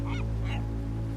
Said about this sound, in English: A seagull?